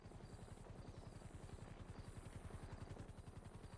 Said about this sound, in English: It's a helicopter, Harold.